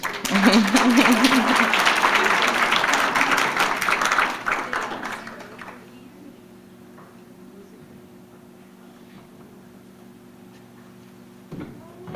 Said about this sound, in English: Let's give our Good as Gold nominees another round of applause